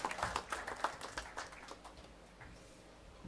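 Scattered, faint applause at the closing ceremony of the Poona Club Open 2024 golf tournament, a few sharp hand claps up front thinning out quickly into quiet.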